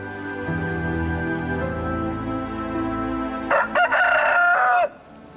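A rooster crows loudly and close by in a short, rising call with a sustained final note, heard over a low background hum within a dramatized Cindelaras legend.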